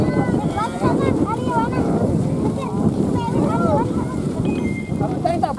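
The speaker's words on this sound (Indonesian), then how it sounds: "Ini angin." Wind gusts steadily across a kite-flying contest field, buffeting the microphone with a constant rough roar while people talk and call out over it.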